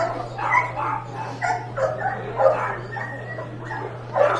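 Dogs barking and yipping in the stands at a minor-league baseball game during a bark-at-the-park event, a string of repeated close barks and whimpers over a steady hum.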